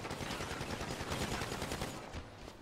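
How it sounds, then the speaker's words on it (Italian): Rapid automatic gunfire in a GTA 5 Online deathmatch, a dense, continuous rattle of overlapping shots at fairly low level, steady throughout and easing slightly near the end, with no speech. "Questi ci sparano dall'alto."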